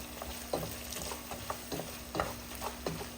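Ground beef with onions, red bell peppers, lemon peel and paprika browning in a pan for five-alarm chili, a continuous low sizzle broken by regular spatula scrapes and stirring knocks.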